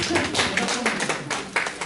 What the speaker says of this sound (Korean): 우리 남촌교회 박수 한번 드릴까요?